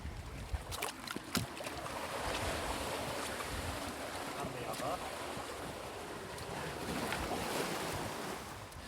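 Sea surf washes against the most westerly shore on the Isle of Mull, with strong wind buffeting the microphone and a few sharp knocks early on as boots are dunked in the water.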